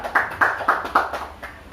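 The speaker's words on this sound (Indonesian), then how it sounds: "silahkan beri tepuk tangan yang meriah dulu pada Gito." A small classroom of students claps for a classmate, a short burst of several sharp, uneven hand claps, close and fairly loud, tapering off.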